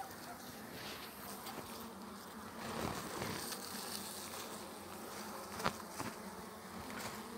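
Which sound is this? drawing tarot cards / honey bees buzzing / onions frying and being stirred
honey bees buzzing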